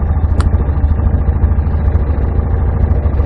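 A 2006 Yamaha Rhino UTV engine idles just after starting in Carson City, a steady, loud, close low rumble with a brief tick early on.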